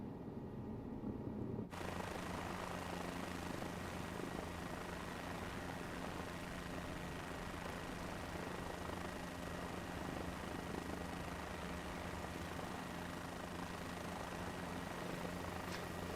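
Engine of a G2 Cabri helicopter in Microsoft Flight Simulator 2024, a constant humming drone with steady tonal whine that starts abruptly after a brief quiet moment and runs evenly at low level.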